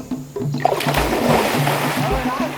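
A person jumps into a forest river while camping, making a loud close splash and churning water, with voices and music-like tones underneath.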